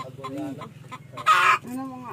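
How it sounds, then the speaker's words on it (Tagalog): A chicken clucks close by in short bursts, with a louder squawk in the middle and steady low background hum. "Kaninong manok yan?"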